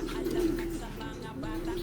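A pigeon coos nearby in low, soft repeated notes, with a quiet background murmur running underneath.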